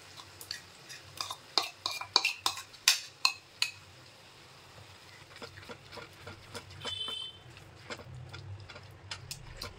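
A spoon stirs yogurt and whisked spices into prawn masala in a pan, giving a run of sharp metallic clicks and taps against the pan, then softer scraping and sizzling, fairly quiet with no voices.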